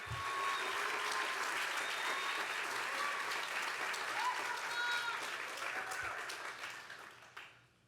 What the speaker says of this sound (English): If you guys can give them a big round of applause for the support that they've done.